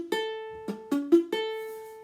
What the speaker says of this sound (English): we're not pressing firmly enough on the strings, we're not bending those strings